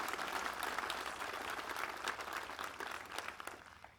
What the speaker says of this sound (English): please help me in giving a round of applause to the American Legion Color Guard